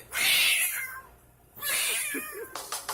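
A toy cat in a store lets out two drawn-out, close meows separated by a short pause, followed by a few faint clicks.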